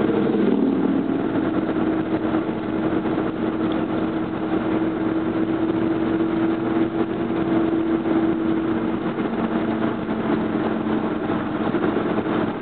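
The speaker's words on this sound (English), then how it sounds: "Motorcycle." A steady motorcycle engine drone holds throughout on a scenic road drive through Cades Cove, loud and close with a constant low hum and no clear rise or fade.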